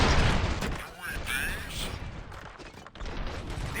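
Gunfire and explosions in the game RoboCop Rogue City, a dense loud barrage of shots and booms filling the clip with little pause, with a voice talking over the din.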